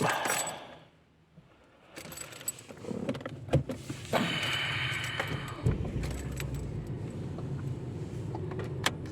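Keys jangle, a pause, then a Ford Falcon AU engine cranks and fires up, settling into a steady running drone with a few clicks and knocks.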